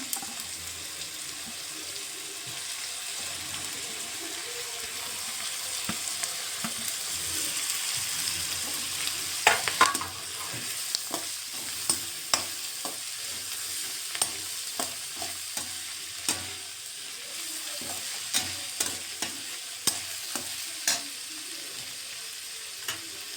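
Capsicum frying in a pan for avrekal capsicum chitranna, with a steady sizzle and repeated sharp scraping taps from stirring through the second half. No one speaks.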